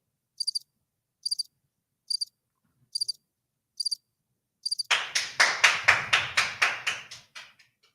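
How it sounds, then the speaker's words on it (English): Six evenly spaced high cricket chirps sound alone, then a burst of loud, fast clapping and crowd noise takes over and fades out. "I heard the crickets."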